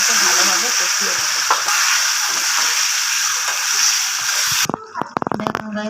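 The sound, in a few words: frying spice paste with fried potatoes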